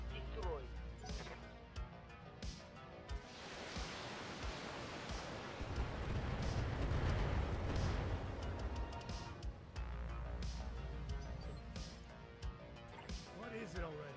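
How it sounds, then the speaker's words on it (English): In BattleTech, a volley of missiles fired at a turret swells into a broad roaring rush of launches and impacts that peaks midway, with sharp clanks around it and someone talking over much of it. "I'm just gonna yeet some missiles at this turret here"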